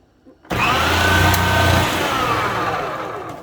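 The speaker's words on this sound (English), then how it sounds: "Now I just need to run these through my food processor" A food processor with a shredder attachment whirs up abruptly while shredding potatoes and runs steadily at close range, a loud droning spin with a slight drop in pitch partway through.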